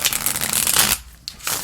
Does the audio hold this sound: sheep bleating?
no